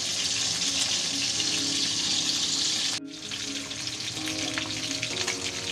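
Sapsap fish frying in hot oil, a steady dense sizzle that fills the whole clip, dipping briefly midway before crackling back at full strength up close with no talk.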